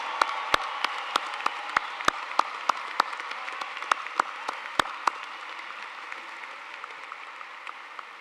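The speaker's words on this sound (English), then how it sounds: "will everyone please join me in a round of applause for today's graduates?" Applause for graduates at a spring business college commencement ceremony: distinct, fairly quiet claps ring out at a steady scattered pace over a soft crowd wash, thinning toward the end.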